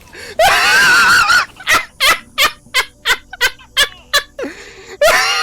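Several people scream and shriek over video game voice chat during an Arma 3 Vietnam-era Zeus op, one long loud yell followed by a rapid string of short, punchy shouted bursts and a final rising scream.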